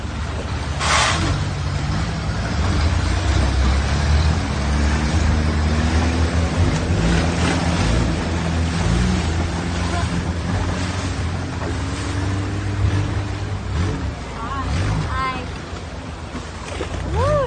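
A boat moves across choppy sea water in Thailand, with a steady engine drone, wind and splashing waves throughout, while people talk over the noise.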